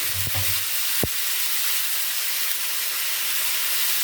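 Lemons for lemon pickle are stirred in a pan, giving a steady broad hiss, like sizzling oil, throughout, with a couple of short low knocks near the start.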